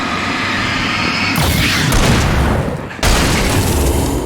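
A heavy blast from a shotgun in the Alan Wake video game booms out amid loud, noisy combat, with a sharp second burst striking suddenly after a brief dip.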